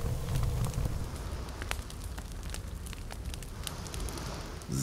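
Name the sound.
campfire burning with fish in The Forest video game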